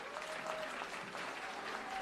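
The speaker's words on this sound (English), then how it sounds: "So loud round of applause to our wonderful audience too." A school audience at an inter-school general knowledge quiz contest gives a round of applause, dense crowd clapping that fills the room evenly, with faint voices blended underneath.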